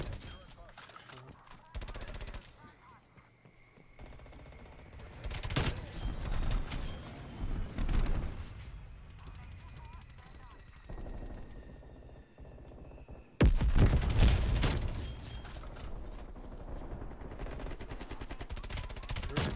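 FAMAS rifle fire in Call of Duty multiplayer comes in quick bursts of shots, some loud and close and some softer, spread through the clip with quieter gaps between them. A voice speaks over parts of the action.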